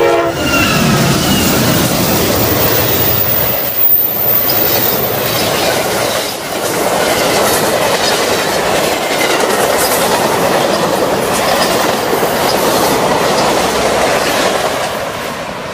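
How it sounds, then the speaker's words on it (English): The Amtrak Lake Shore Limited passes close by at a railroad crossing, a loud continuous roar of rolling wheels and clattering cars with horn tones and squealing, steady throughout. "We have a train coming! It's the Amtrak Lakeshore Limited."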